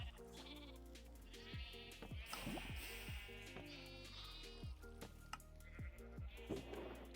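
Several Minecraft sheep bleat on a modded farm, their wavering calls repeating at intervals and overlapping at close range over a quiet background hum, with no talking.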